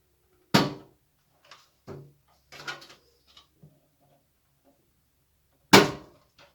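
A PC case's front panel is pulled off, giving one sharp plastic snap, a few smaller clicks and rattles, and then a second loud snap as the clips release near the end.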